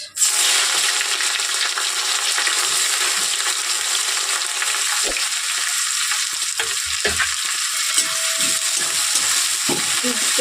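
Onions sizzle steadily in hot oil while frying for chicken curry, with occasional scraping and stirring clinks from a utensil against the pan.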